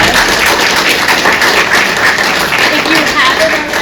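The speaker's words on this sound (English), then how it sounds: "let's give him another round of applause" Audience applause for a speaker at a talk on the West Broad Street Theater District, a steady wash of clapping that holds at an even level throughout with a murmur of voices underneath.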